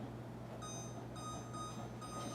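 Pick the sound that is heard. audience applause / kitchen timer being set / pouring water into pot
kitchen timer being set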